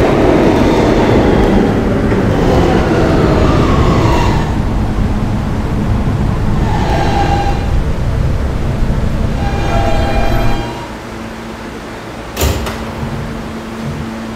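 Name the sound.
R160B Siemens subway train running, Roblox video game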